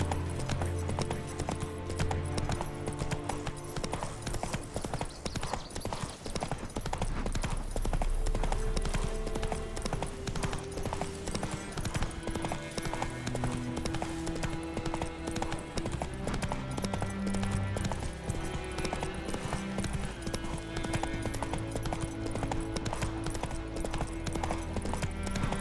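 Steady clip-clop of a horse's hooves at a gallop in The Witcher 3, running loud and continuous for the whole stretch over an ongoing game soundtrack, with a brief whinny in the mix.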